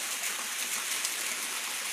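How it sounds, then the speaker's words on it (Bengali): Water of a waterfall in Juri pours onto rocks in a continuous hissing rush, steady and fairly faint with no pauses or voices. "এভাবে পানি পড়তেই থাকে।"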